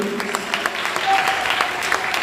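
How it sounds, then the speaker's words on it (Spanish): A church congregation at a sermon claps in a continuous, moderately loud round of applause, with faint voices mixed in beneath the clapping. "Denle un fuerte aplauso al Señor."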